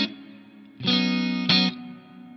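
An electric guitar plays through patch 1 of a Donner Arena 2000 multi-effects pedal: a distorted sustained chord, then two loud, bright re-struck chords that ring and fade.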